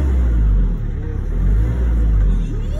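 A manual car's engine idles and runs in a driving lesson, a steady low rumble with slight swells in revving, close up, with no talk over it.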